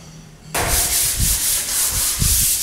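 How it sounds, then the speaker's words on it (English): After a brief quiet moment, loud rhythmic scraping of sandpaper rubbing back and forth across a plastered wall, close by. "yet more sanding of the walls"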